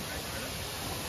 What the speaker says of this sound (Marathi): वॉटरफॉल आहे इकडे, मस्त भला मोठा वॉटरफॉल.